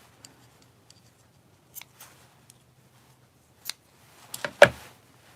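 Scissors trim paper in a few quiet, isolated snips and rustles, ending in a brief louder cut and crinkle, close and otherwise silent.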